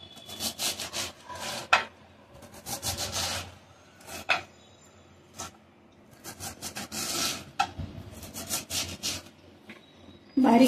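Washed fenugreek leaves being cut by hand in a home kitchen, giving repeated close, dry rasping and scraping strokes in uneven bursts, with brief pauses between them and a sharper knock at the end.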